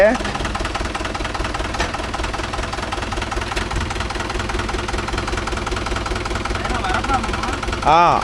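A Mahindra 575 DI tractor's diesel engine chugs steadily at close range with a low, knocking idle, and a short whine or squeal comes in near the end.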